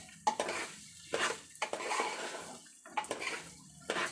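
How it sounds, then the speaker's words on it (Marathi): Spoon scraping and stirring soya biryani frying in oil in a metal pot, repeated clattering strokes against the pot over a low, continuous frying hiss, close and moderately loud, no talk. "त्याला चांगला आता खालीवर करून फ्राय करून घेतो तेला हे अशा पद्धतीने"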